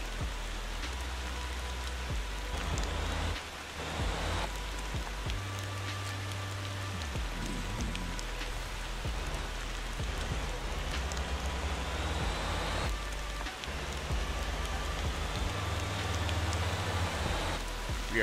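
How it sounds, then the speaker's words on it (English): Steady rain hisses across the whole scene while driving a RoadMaster Sigma bus in the Motor Town driving game, with a low engine drone underneath and no talk. "Rain not helping."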